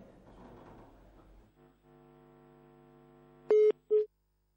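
A telephone line after a dropped radio-show call: low muffled noise, then a steady hum, followed by two loud, clean tone beeps near the end.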